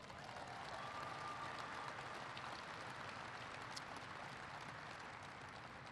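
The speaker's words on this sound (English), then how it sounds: "Give them a big round of applause." Crowd at a Barack Obama appearance applauds its hosts, a broad, even wash of clapping from many hands that holds steady and fairly far off throughout.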